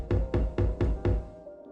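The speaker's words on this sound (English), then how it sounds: "there was another knock at the door" A door knock sound effect: five quick, evenly spaced heavy knocks on a wooden door, close and clear, fading into a short resonant tail.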